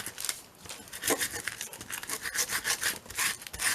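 Sandpaper rubbed back and forth along a metal tape measure: a continuous rhythmic abrasive scratching, close and fairly loud, with no talking.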